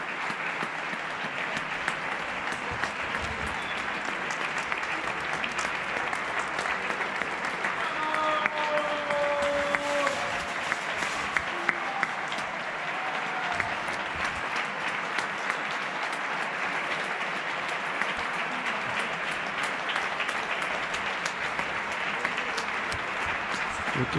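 Neighbours clap steadily from balconies during the coronavirus lockdown in Spain to honour healthcare workers, a broad outdoor wash of many hands with a faint whistle-like tone partway through and occasional voices.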